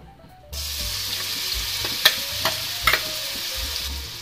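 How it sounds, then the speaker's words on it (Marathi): Ginger, garlic and green chili paste lands in hot oil for palak paneer and sets off a sudden, loud, steady sizzle, with a few sharp spatters and stirring scrapes over it. "आता आपण हे मिक्सर मध्ये जे बारीक करून घेतलेलं आहे अद्रक, लसूण आणि हिरवी मिरची ते आपण टाकणार आहोत"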